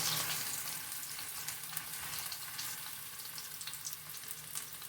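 Pot roast beef sears and browns in an Instant Pot, giving a steady crackling sizzle with light scattered pops throughout.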